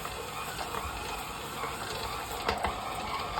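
A dough machine kneads enriched sourdough brioche dough, giving a quiet, steady mechanical whir broken by light rhythmic clicks and knocks.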